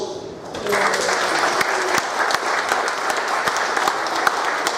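Audience at a live wrestling show breaking into loud, sustained applause and cheering in a hall, rising after a brief pause and continuing steadily throughout.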